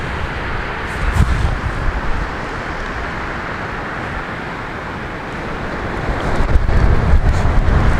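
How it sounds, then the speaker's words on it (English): A strong gale blowing on a surfcasting beach at around 25 knots gusting 30, a broad, loud roar of wind buffeting the microphone, swelling in gusts near the start and end. "It's been blowing a gale all day, about 25, gusting 30 knots."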